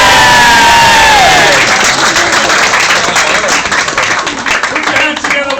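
Wedding guests cheer, whoop and applaud loudly for the bride at a wedding reception, a dense crowd roar with clapping that starts at full strength and stays steady throughout.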